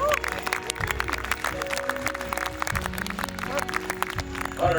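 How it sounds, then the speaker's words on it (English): Audience at a high school baseball banquet applauds, a dense spread of clapping under steady crowd murmur with voices talking throughout. "Round of applause for Jack Ferguson."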